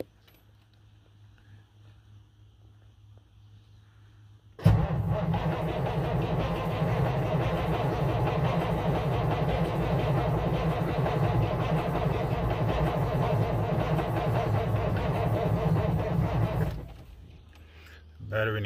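Cummins diesel engine, fresh from cylinder head and injector work, cranks and catches after a quiet start, then runs loud and steady for about twelve seconds before cutting off.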